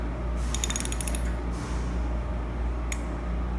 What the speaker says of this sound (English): installing your jack bolts 180 degrees from each other, tighten 1/4-inch turns